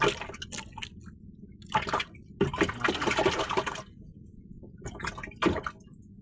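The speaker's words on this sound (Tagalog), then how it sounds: "maingay yung mga huli ko sa ilalim, kasi yung lalagyan ko na plastic container" Freshly caught fish thrash in a plastic container of water, giving irregular wet splashes and sloshing bursts with quiet gaps between them.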